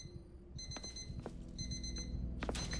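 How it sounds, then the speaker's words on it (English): An item in the survival horror game Fear The Timeloop gives off a repeated electronic alarm beep, several bright tonal pulses in a steady pattern over a low background hum. "What's beeping over here?"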